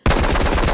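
Rapid automatic fire from an AR assault rifle in a video game, a loud, steady burst of closely spaced shots running without pause for under a second.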